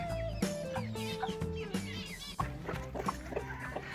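A hen clucks close by in a rapid series of low, throaty calls, with some chirpier bird sounds mixed in.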